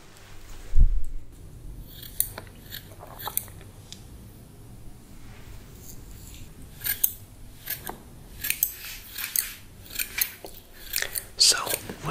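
In a close-up ASMR haircut, scissors trim hair with crisp, scattered snips that come in irregular little clusters. A quiet voice talks softly underneath.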